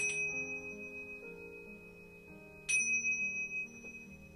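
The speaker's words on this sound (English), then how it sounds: "That one's more of a kind of Buddhist-y bell." A Buddhist-style bell struck twice, each strike giving a bright clear ring that hangs and slowly fades, with the second stroke louder and close by, sounding alone with no voices.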